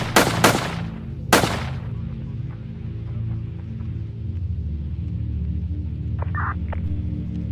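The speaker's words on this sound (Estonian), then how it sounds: "Me kuulsime laske." Three sharp, loud gunshots from the video game GTA 5 crack in quick succession at the start, then give way to a low, steady electronic hum.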